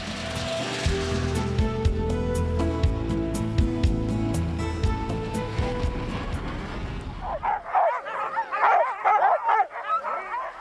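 A team of sled dogs bark, yip and whimper excitedly in a snowy outdoor setting, first as a dense, busy chorus under heavy engine-like rumble, then as clearer, closer yelps and whines after the noise drops away.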